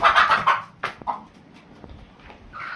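A large rooster on a poultry farm clucks in a few loud bursts up close, followed by sparser, fainter calls amid windy outdoor background noise.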